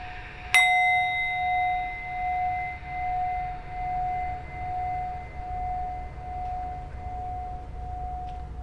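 A bell struck once during a yoga relaxation session, a clear metallic strike that rings on as a long, sustained tone, slowly pulsing and fading over several seconds against quiet background hum.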